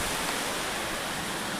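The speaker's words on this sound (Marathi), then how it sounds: "हे बघा खूप सारा पाऊस आहे" Heavy monsoon rain driven by strong wind makes a dense, continuous hiss that fills every moment, loud and close with no pauses.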